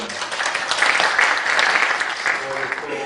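An audience at a symposium in the National Assembly gives a discussion panelist a steady round of applause, many hands clapping in a dense, even wash that thins near the end.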